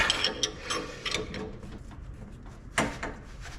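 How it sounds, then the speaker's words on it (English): Steel combination wrenches, a 17 and a 19 doubled up, ratchet a bolt on the suspension of a 2005 Nissan Titan during a lift kit install: several sharp clicking bursts close by, with a louder cluster near the end. "we do have to use a 17 wrench on the outside and a 19 on the inside"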